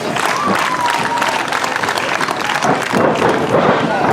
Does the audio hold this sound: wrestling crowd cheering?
yes